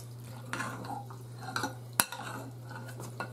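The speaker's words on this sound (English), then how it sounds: "Let's mix this all up." A spoon stirs vegetable stuffing with mushrooms for zucchini in a bowl, producing a few quiet, separate scrapes and clinks, with one sharper knock near the middle over a low steady hum.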